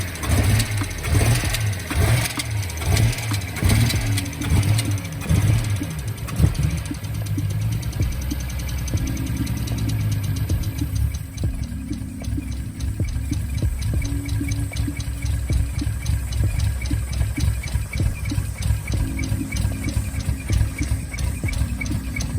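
A brand new zero-mile Datsun engine idles in a steady, rumbling drone with a loose, rhythmic low pulsing throughout, no talking over it.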